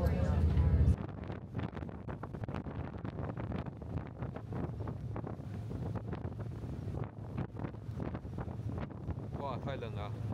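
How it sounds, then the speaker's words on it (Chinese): Strong wind gusts outdoors during a road trip through western US national parks, just after light rain, blowing steadily and roughly against the microphone with a faint voice underneath. "虽然外面风很大"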